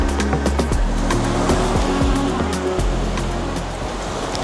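Surf washing onto the beach at Destin, Florida, on the Gulf coast, a steady close rumble of breaking waves with no talking.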